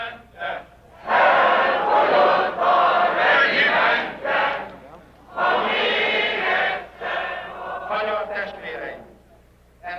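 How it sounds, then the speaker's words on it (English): A large crowd at a Hungarian political rally loudly chants a politician's name in rhythmic waves, with brief pauses between the surges. "The crowd is chanting the name of István Csurka"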